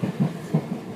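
A 485 series Inaho limited express train pulls out of Niigata with a low rolling rumble and a few soft rhythmic wheel thumps, heard from inside the carriage.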